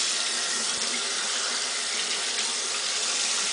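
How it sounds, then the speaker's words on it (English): A tap runs steadily into a sink as hands are rinsed, a loud, unbroken hissing gush close to the listener with no talk over it. "then you gotta rinse your hands."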